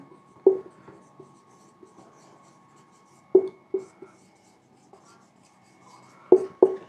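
Chalk or marker strokes on a board during a lecture, quiet scratchy taps and short squeaks in small clusters with pauses between words.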